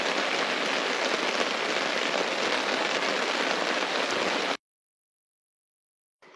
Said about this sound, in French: à juste écouter la pluie tomber